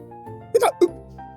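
A man reading a children's story about an elephant imitates hiccups with his voice, giving two quick sharp vocal hics in a row between quiet stretches.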